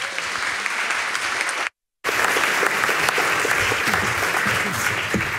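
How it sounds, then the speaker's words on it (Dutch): Steady applause from a seated audience at a talk event, broken by a brief silent gap partway through, then continuing at the same even density. "Een hartelijk applaus."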